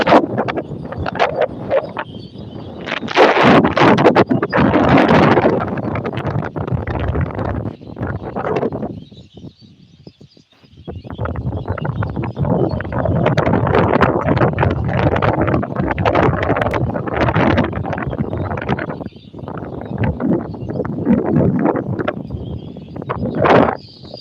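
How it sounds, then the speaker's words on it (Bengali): Strong wind buffets the microphone in heavy, roaring gusts, briefly dropping away before blasting back just as hard. "আরে বাতাস"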